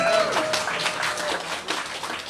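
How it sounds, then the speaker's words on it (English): Audience clapping at a library reopening ribbon-cutting in East Flatbush, a brief, dense round of applause from a gathered crowd at a fairly even level throughout. "Round of applause for that, please"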